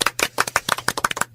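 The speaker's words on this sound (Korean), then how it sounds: "오늘은 박수 치고." Hands clap about a dozen times in quick, steady succession in a studio setting, sharp and fairly close, with no talking over them.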